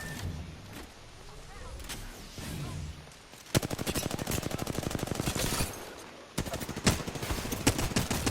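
Automatic gunfire in the shooter Apex Legends, sparse single shots at first, then two long rapid bursts of rattling fire, close and loud, with faint talk underneath early on.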